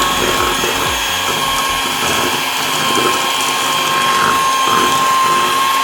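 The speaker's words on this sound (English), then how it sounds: "we are going to go in with our hand mixer and mix the whole thing up" A hand mixer whirs steadily as it beats pancake batter in a bowl, a loud continuous motor drone with faint rattling from the beaters and no voices over it.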